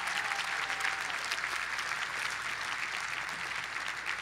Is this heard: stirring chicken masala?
no